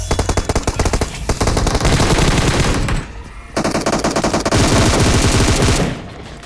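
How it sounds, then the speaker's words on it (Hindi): Rapid automatic gunfire in a battle royale video game, dense bursts of loud close-range shots that pause briefly, then resume in a long sustained volley before tapering off. "अब इतनी देर में कुछ फायरिंग साउंड और हमें आता है"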